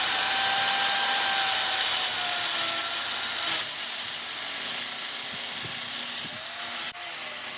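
A power tool grinding a notch into metal plate for an offroad jack mount, a loud continuous harsh whine with small shifts in pitch and a short break near the end.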